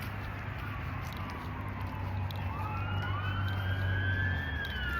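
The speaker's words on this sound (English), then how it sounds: "Sirens." Emergency sirens wail in the distance, their pitch sweeping slowly up and down over steady traffic rumble and low engine hum.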